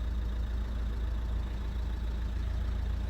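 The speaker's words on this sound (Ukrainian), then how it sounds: "По роботі двигуна взагалі, мені здається, що ідеально просто працює." Renault Megane 1.5 diesel from 2014 running at a steady idle, a low, even engine drone with a faint regular clatter, close by and uninterrupted, with no talk over it.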